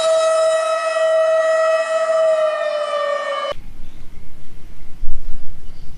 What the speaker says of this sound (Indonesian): Mobil truk pemadam kebakaran atau fire truck.